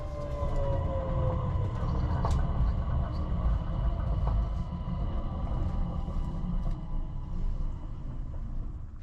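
An Øresundståg passenger train runs on its approach into Copenhagen's main station, giving a steady loud rumble and rolling hum heard from inside, with a faint high whine and a few light clicks, and no talking.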